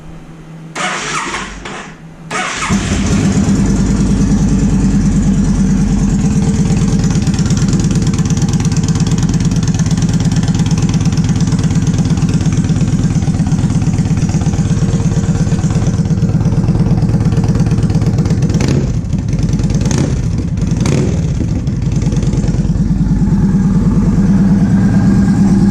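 A 2007 Yamaha V-Star 1300 with a Cobra Hot Rod Speedster long exhaust fires up after a brief crank, then settles into a loud, steady, deep idle close by that runs unbroken to the end, with a few small blips partway through.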